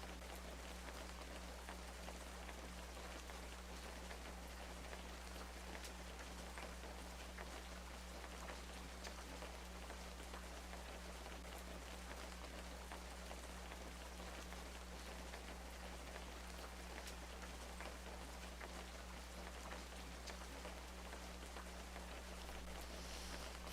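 Steady, even rainfall from a video game fills the whole stretch, with a constant low hum beneath it and no voices.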